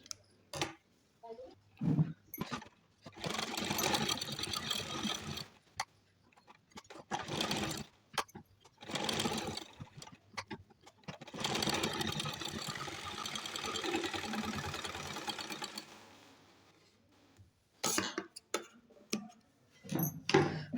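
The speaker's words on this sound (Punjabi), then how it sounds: "ਹੁਣ ਆਪਾਂ ਇਹਦੇ ਲਵੇ ਲਵੇ ਸਿਆਉਣ ਲਾ ਦਾਂਗੇ ਸਿਲਾਈ ਸੈਂਟਰ 'ਚ ਬਿਲਕੁਲ ਬਰੀਕ ਟਾਂਕਾ ਕਰਕੇ" A sewing machine stitches a kurti neckline with fine stitches, running in several sustained bursts of rapid, steady mechanical whirring, separated by pauses filled with small clicks and handling noises, close by and without talk.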